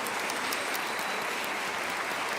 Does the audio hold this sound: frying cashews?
no